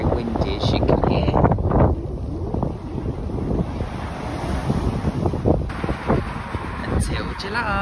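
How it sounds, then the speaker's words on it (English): Strong gusting wind buffeting the microphone on a beach at Pefkos, Rhodes, Greece, loud roaring gusts rising and falling throughout with a voice talking underneath. "today very windy, as you can hear"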